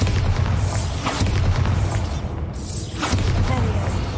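The Bombarda explosion spell goes off in Hogwarts Legacy, several loud booming blasts over a constant low rumble, with sharp bursts recurring a few times.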